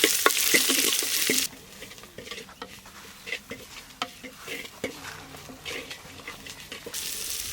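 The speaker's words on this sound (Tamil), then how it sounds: "லேசாக ஒரு கிண்டு சின்ன வெங்காயம் போட்டுக்க போகிறோம்." Garlic, green chili and shallots frying and stirred in a pan, a loud sizzle that drops to a quieter crackle with intermittent scraping stir strokes, then swells again near the end.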